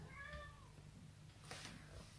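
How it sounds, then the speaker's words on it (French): A house cat meows close by in a home, one rising-falling cry near the start, followed by soft rustling and a brief breathy hiss later, all quiet and without talk. "J'ai un chat qui vient se joindre à moi, hein, comme toujours. Il m'a pas lâché, il a fait que de me miauler"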